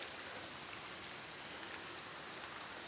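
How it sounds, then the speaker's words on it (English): Steady rain falls on a residential street, a dense, even hiss of drops with no break, heard alone without any voices. "One more time, I'll show you guys the rain"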